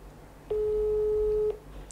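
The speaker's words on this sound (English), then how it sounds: "Firstly, I can call this board. Then I press voice call and speak." A mobile phone calls an ESP32 relay board, giving one steady ringback tone about a second long, clear and alone over a quiet background.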